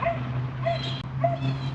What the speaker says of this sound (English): And this liberal Karen can't obviously control her dog.